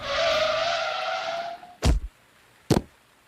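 A car brakes hard with a long, loud tire screech lasting about a second and a half, then two sharp heavy thuds of impact follow, with silence between them.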